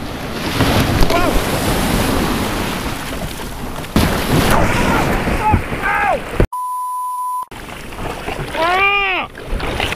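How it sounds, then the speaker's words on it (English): Ocean surf on the Jersey Shore rushes and crashes continuously under heavy wind noise, with brief voices and whoops breaking in and a short gap near the end. "you have a lot of waves coming"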